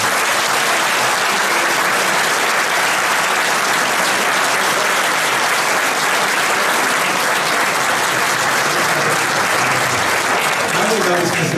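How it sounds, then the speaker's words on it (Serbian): A lecture audience breaks into loud, sustained applause, a thick, even wash of clapping from a large crowd in a hall that holds at full strength for over ten seconds. "Aplauz jedan za sve."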